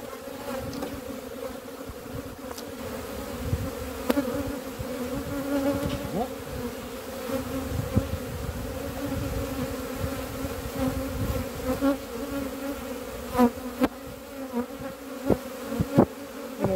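Honey bees buzzing steadily in a dense, continuous drone as a colony is moved from a nucleus box into a full hive, close and loud, with occasional soft knocks and handling sounds of frames, no talking.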